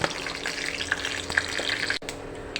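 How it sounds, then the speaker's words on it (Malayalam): Mustard seeds spluttering and popping in hot sesame oil (gingelly oil) while preparing a lemon pickle, a dense steady crackle with sharp individual pops scattered throughout, close and fairly loud, briefly dipping near the end before resuming. "കടുക് പൊട്ടുമ്പോൾ"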